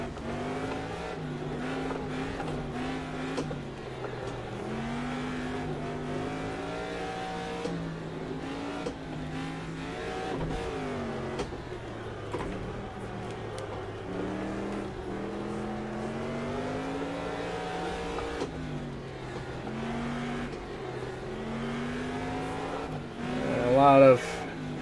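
A car accelerating hard on the throttle through a targa rally stage in first gear, its engine note rising and falling in steady sweeps as revs build and drop, loud and close throughout, with a brief burst near the end.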